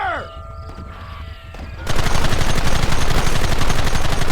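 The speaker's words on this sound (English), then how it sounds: "There they are! Open fire!" Rapid gunfire erupts in the Red Dead Redemption video game after a short lead-in of game ambience, becoming a dense, loud, continuous volley of shots that lasts to the end.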